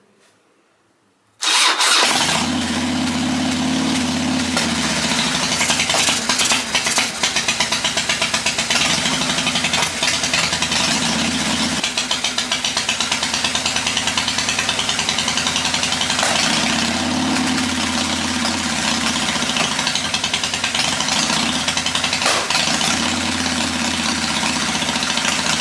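A Harley-Davidson Dyna motorcycle engine on a budget build fires up and runs steadily for over twenty seconds, a loud, continuous idle with a lumpy low rumble and slight fluctuations in rhythm, close by with no talking.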